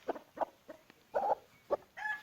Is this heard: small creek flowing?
no